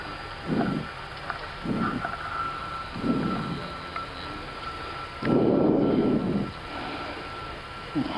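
Air Belgium A340-300 jet engines during takeoff, a steady distant rumbling roar with repeated muffled thumps and a heavier surge near the end, heard from inside the cabin.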